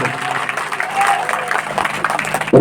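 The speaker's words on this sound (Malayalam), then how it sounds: "നല്ലൊരു കയ്യടി തരും ആദ്യമായിട്ട്" An audience at a school alumni gathering in Kavanoor claps together, a brief burst of dense applause with some crowd murmur mixed in.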